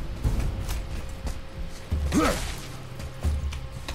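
A door creaking open in the God of War video game, a mechanical grinding creak with ratchet-like clicks and low thumps, moderately loud over a background hum.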